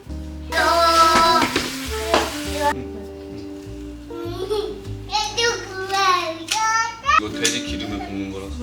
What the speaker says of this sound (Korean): 기름에 볶는 거라서.